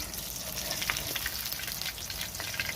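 Rohu fish pieces frying in hot oil for a potato and pointed gourd curry, giving a steady close crackling sizzle with scattered sharp pops throughout, no voices.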